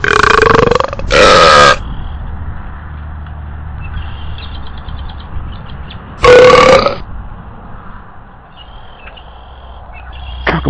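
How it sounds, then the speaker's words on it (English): An aggressive bird lets out two loud, short burp-like calls, seconds apart, with quieter chirps and an outdoor background hum between them. "It's attacking and burping at the same time."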